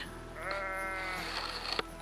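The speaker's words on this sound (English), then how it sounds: "and the noisy sheep." A sheep bleats once in a long, wavering cry at Sycamore Gap on Hadrian's Wall, quiet and somewhat distant against a steady low background hum.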